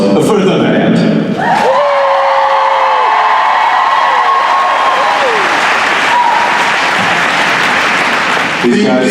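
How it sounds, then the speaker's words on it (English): A crowd at a 2018 event bursts into loud, sustained applause for the band, with cheers and whoops rising above the clapping and a voice speaking over the noise near the start. "Can we just get a nice round of applause for the band?"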